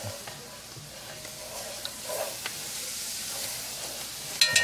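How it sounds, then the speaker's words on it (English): Minced garlic sizzles softly in a roux for a deer meat stew, a steady low frying hiss with a few faint scrapes and clinks of stirring, ending in a couple of sharper utensil knocks. "we're gonna let this sweat down, mix in with this roux before we add our meat"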